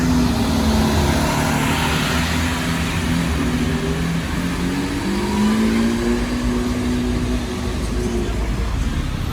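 Lamborghini SVJ Roadster engine at a Monaco carspotting session, a steady loud drone with rising and falling pitch sweeps as it revs and pulls away, continuous for the whole stretch with crowd noise underneath.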